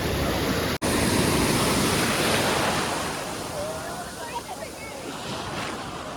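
Sea waves wash onto Nagoa Beach in Diu, a steady broadband surf roar that is loud at first and eases slightly, with wind noise on the microphone and no talk.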